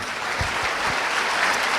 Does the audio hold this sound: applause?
yes